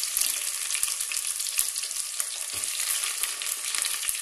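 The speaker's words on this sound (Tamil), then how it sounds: "எண்ணெய் காஞ்சதும் நம்ம இதில் கட் பண்ணி வச்சுருக்கிற பெரிய வெங்காயத்தை போடலாம்." Chopped big onions fry in hot oil for an oyster mushroom curry, a bright continuous sizzle with faint stirring scrapes, close and steady with no voices.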